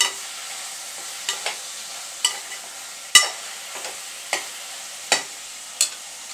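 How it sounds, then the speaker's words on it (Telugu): A ladle stirs carrots, drumsticks and mixed vegetables for sambar in a pan, making a series of about ten sharp scraping clinks at an uneven pace over a faint background hiss, close and without talk. "ములక్కాడలు, అన్ని వెజిటేబుల్స్ 1 by 1 వేసుకున్నాక ఒకసారి గెట్టుతో మొత్తం తిప్పేసుకుందామండి"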